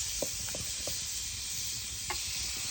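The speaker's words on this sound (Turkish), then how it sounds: "Evet ızgaramızı gördüğünüz gibi seslerini de duyuyorsunuz." Steady sizzling hiss of chicken cooking on a hot stone grill, with a few faint clicks and scrapes.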